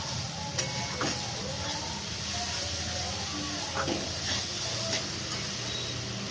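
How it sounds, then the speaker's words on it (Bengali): Meat spice mix with Kashmiri chilli powder frying in a pan for a mutton curry, a steady soft sizzle and hiss with a few faint stirring clinks, fairly quiet throughout. "মাংসের মশলাটা আমি ভাজতে বসিয়েছি।"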